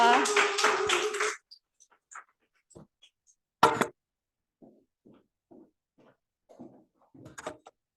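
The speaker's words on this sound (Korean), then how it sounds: "고영경 다이아몬드 마스터께 다시 한번 큰 박수 부탁드리겠습니다" An audience at a lecture on a slim-body diet shake bursts into dense, bright applause for just over a second, then falls quiet, leaving only a few faint scattered knocks and shuffles.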